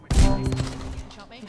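A single gunshot in the battle royale video game Apex Legends, a sharp loud crack at the start followed by a decaying rumble, with a voice briefly present.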